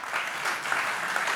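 A conference audience at a digital arts forum keynote gives a short burst of steady, dense applause, with no voices.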